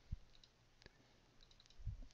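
A computer mouse clicks while slides are edited in Google Slides: a few soft, sparse clicks spaced irregularly over a couple of seconds, close and quiet against faint room hiss, with no voices.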